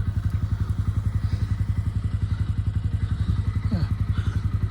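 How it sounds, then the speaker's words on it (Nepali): A TVS Ronin motorcycle engine runs close by with a loud, steady, rapid thumping beat, unchanged from start to finish, with no voices over it. "म त बाइक स्टार्ट गर्न गइरहेको छु वान ट्यापमा हुन्छ कि हुँदैन है त"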